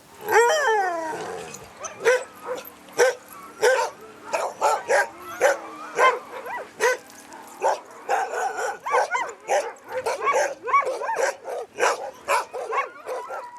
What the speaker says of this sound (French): Au ranch Alayouk, c'est l'heure du repas pour les chiens.